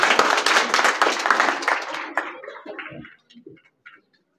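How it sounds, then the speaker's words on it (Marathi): Audience applause at a school Shivaji Jayanti celebration, a dense burst of many hands clapping that thins out over about two seconds and trails off into a few scattered claps. "टाळ्या, सर्वांनी टाळ्या वाजवा."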